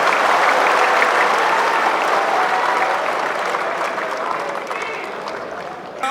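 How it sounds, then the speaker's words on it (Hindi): Crowd applause at a gathering of e-rickshaw drivers, loud and sustained at first, then gradually thinning out over several seconds. "भैया तालियों की आवाज उठनी नहीं चाहिए।"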